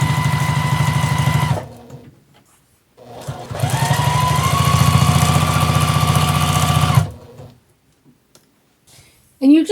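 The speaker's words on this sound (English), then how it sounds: "I'm going to sew 1/4 of an inch again all the way down." A sewing machine stitches a seam on a tote bag in two loud, steady bursts of fast mechanical whirring and ticking, separated by pauses, with a faint click at the end.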